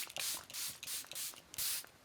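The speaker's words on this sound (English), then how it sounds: "We're gonna lock it in with the Charlotte Tilbury setting spray today." Charlotte Tilbury setting spray mists out in a series of short hissing pumps, about five quick bursts close by in a quiet room.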